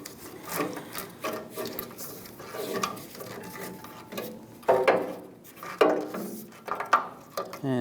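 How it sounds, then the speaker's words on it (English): Chevrolet Silverado tail light wiring harness being pulled through a plastic opening, uneven rubbing and scraping drags with a few sharper clicks, close and moderately loud, no voice. "Now we can just pull this harness through."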